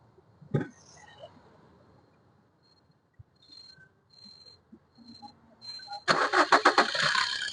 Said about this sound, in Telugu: సింగిల్ సెల్ఫ్ అయితే బండి స్టార్ట్ అవుతుంది సార్